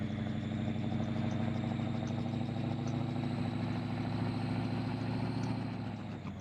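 A twin-turbo 6.0 race truck engine with a lope tune idles in Farming Simulator 22, giving a loud, deep, choppy rumble with an uneven loping pulse that holds steady throughout.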